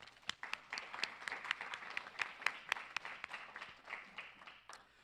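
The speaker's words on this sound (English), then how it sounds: "Please join me in a round of applause for the judges." A crowd at a university commencement ceremony claps steadily for several seconds, a dense patter of applause that tapers off near the end.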